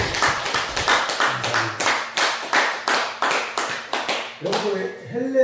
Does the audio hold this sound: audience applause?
yes